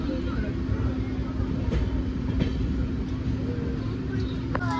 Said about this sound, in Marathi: निघाली आता ट्रेन.